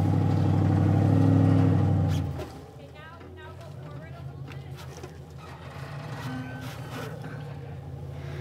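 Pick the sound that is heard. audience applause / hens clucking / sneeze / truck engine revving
truck engine revving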